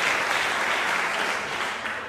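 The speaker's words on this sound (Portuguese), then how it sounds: "Démosle un aplauso a todo el equipo del sonido." A church audience applauds a sound team with dense, continuous clapping that stays loud throughout and eases slightly near the end.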